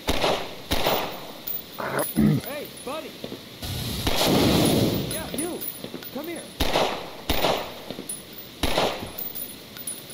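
Gunfire in the VR game Half-Life Black Mesa cracks out as a series of loud, sharp shots at irregular intervals, with a longer rumbling burst midway and someone talking over it.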